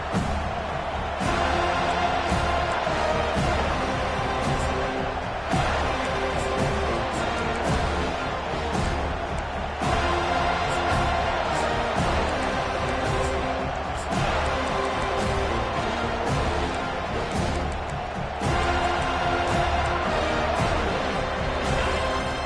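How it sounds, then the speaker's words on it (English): A football stadium crowd roaring for the defense on third down: a steady, dense wall of distant cheering and noise that holds loud throughout, with broadcast commentary talking over it. "Decibels rising as the crowd gets behind this defense on third down"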